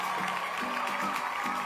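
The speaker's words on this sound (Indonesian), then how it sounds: "Tepuk tangan." A crowd applauds to welcome a guest at a podcast event in Probolinggo, giving steady, fairly faint clapping and cheering that carries on for the whole moment.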